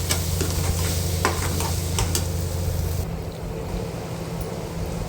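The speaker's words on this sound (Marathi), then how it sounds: "हे सगळं परतून घेते व्यवस्थित" Onion and masala sauté in a pan for a spicy dry prawn curry, giving a steady, close sizzle with scraping stir strokes that ease slightly partway through. No one speaks.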